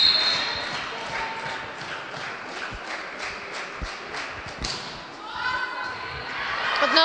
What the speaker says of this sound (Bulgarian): Отново добър начален удар.